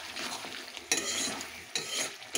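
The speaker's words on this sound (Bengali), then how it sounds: "এখন একটু ধনে পাতা দিয়ে মিশিয়ে নেব" Chicken with coriander leaves is stirred in a pan, a steady close scraping and sizzling with a few sharper pushes of the spoon against the metal.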